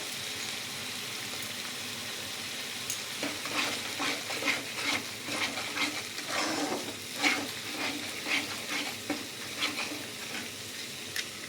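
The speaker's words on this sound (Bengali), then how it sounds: "পেঁয়াজটাকে একটু ভালো করে তেলের সাথে আমি ভেজে নেব।" Onions frying in oil in a pan for a Bengali chicken kosha, a steady soft sizzle with intermittent stirring scrapes and clinks, no voices over it.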